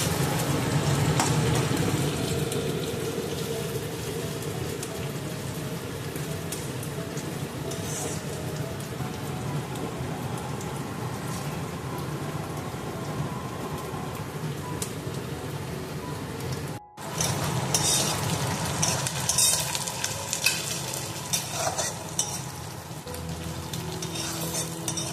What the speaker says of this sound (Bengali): পেঁয়াজ ভাজা চলছে বন্ধুরা